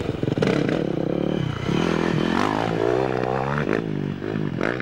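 A Yamaha YZ400F four-stroke enduro motorcycle engine snarls and revs up and down close by, loud and continuous with rising and falling pitch as the rider works the throttle.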